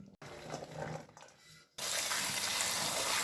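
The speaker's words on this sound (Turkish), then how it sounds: "Fasulyelerimizi bol suda yıkıyorum." Fresh green beans washed in plenty of water in a kitchen sink: faint splashing and handling noises, a brief pause, then running tap water gushing steadily and loudly.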